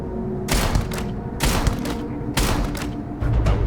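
Gunfire from a weapon in the sci-fi shooter Starfield, three heavy booming shots spaced about a second apart, loud and close over a constant low game rumble, no talking.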